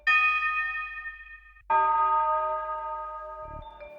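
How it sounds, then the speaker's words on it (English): Two bell notes from a melody with Valhalla Vintage Verb at a 55% mix ring out, each with a bright metallic strike and a long decaying reverb tail, the second entering partway through, followed by a brief low thump. "Last thing I've added to the melody is this bell"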